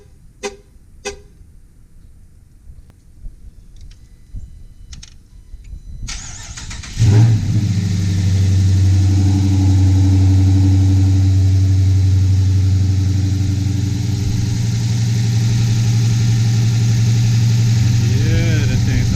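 After a quiet stretch with a few clicks and light noises, a car engine cranks and catches, then idles and revs loudly and close, a steady rumbling drone that continues to the end; a car fitted with an oil catch can.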